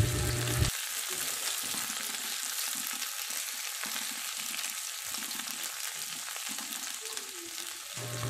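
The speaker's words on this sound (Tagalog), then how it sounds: "Sa isang mainit na kawali nga, inilagay na natin ang ating luya." Ginger, garlic and onion sautéing in a hot pan for chicken binakol, a steady bright sizzle that runs evenly throughout at moderate loudness with no talking.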